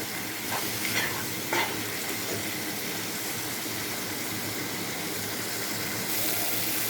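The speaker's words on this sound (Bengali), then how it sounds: "মশলাটা আমি এভাবে নাড়াচাড়া করতে থাকবো যতক্ষণ না মশলাটায় তেল আসে" Spice paste sizzles steadily in hot oil as a spoon stirs it, with a few scraping strokes near the start over a continuous frying hiss.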